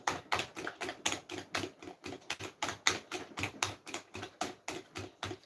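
A whisk beats puff puff batter in a bowl with quick rhythmic clicks and taps, roughly four strokes a second, steady and close-miked.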